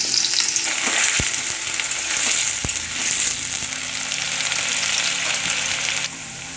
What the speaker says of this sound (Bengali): এই তেলেই আমি আলুগুলো ভালো করে লাল লাল করে ভেজে নেব।